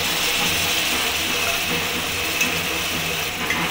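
Raw chicken sizzles in hot spiced oil in a pan for chicken pasta, a steady close hiss with soft scraping from stirring, continuous throughout.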